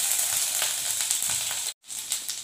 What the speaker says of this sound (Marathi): तेल तापतं त्याच्यामध्ये आपण अद्रक टाकू। बारीक चिरलेला अद्रक